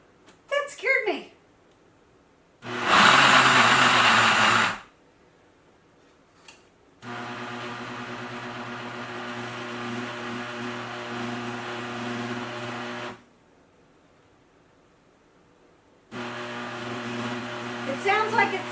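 An Instant Ace Plus blender grinds almonds into almond butter, a loud, strained motor drone running in long stretches and cutting out between bursts, with a short talking voice at the start.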